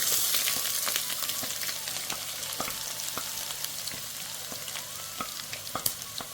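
Sliced onions fry in oil with ginger garlic paste for a Kerala fish curry, a soft steady sizzle with scattered crackles and light stirring clicks, moderately close and fairly quiet.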